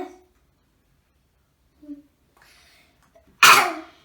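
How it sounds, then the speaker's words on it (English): A child coughs once, short and sharp and close by, after a faint throat sound and a brief breathy noise in an otherwise quiet room. "Don't cough here."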